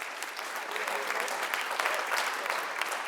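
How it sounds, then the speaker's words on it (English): Steady applause from a community audience at a city commission meeting, dense, even clapping that holds at a constant level throughout without a break. "I would like an applause from the community for that"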